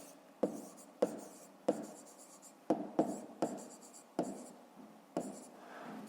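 Handwriting while working a 5th grade math exercise: crisp pen-on-paper strokes start sharply in an irregular rhythm, close and clear, with no talk.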